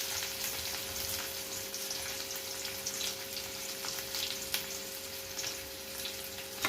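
Sliced onion fries in hot oil with garlic and ginger for homemade chow mein, a continuous soft sizzle with faint crackles and occasional light clinks, fairly quiet and close.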